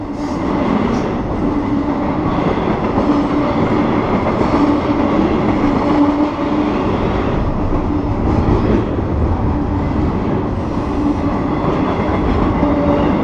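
A Norfolk and Western train passes by at speed from close overhead, a loud continuous rumble and rattle of wheels and cars that holds steady throughout.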